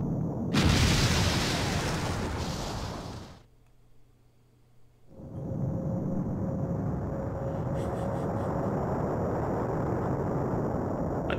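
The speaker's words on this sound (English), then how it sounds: "if we're not careful, we'll be caught in the explosion" Explosion in the video game Mega Man Legends: a loud, broad rumbling blast that cuts off abruptly, a short quiet gap, then a sustained roaring wash of noise with a faint steady tone.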